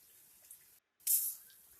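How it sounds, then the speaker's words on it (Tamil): A short burst of water pouring into a cooking pan after a brief silence, close and fairly loud, with faint kitchen background before it. "கூடவே ஒரு 1/4 கப்பு தண்ணியும் சேர்த்து ஊத்திக்கோங்க."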